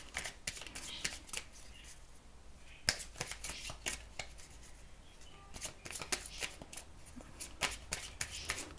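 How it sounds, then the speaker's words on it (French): A deck of tarot cards is shuffled and drawn close up, quiet riffling bursts and sharp snaps of cards separated by short pauses. "je vais retirer une carte dessus pour essayer d'en savoir un petit peu plus"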